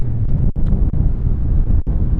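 Wind buffets a microphone outdoors at a shopping mall, a loud low rumble that swells and dips in gusts with brief dropouts and no voices.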